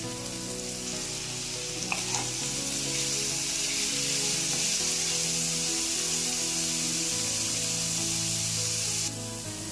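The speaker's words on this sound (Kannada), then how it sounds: "ಎಲ್ಲವನ್ನು ನೀವು ಎಣ್ಣೆಯಲ್ಲಿ ಸ್ವಲ್ಪ ಹೊತ್ತು ಹುರ್ಕೋಬೇಕಾಗತ್ತೆ." Capsicum frying in oil in a pan for mushroom fried rice, giving a continuous loud, close sizzle with faint stirring scrapes and no voices.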